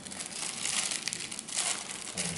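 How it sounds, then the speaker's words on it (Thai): Plastic packaging is crinkled and crumpled while an invisible ink pen is unwrapped, producing close, faint, irregular rustling bursts that continue throughout with no talking. "นี่เราก็แกะปากกามาใช่ไหมครับ"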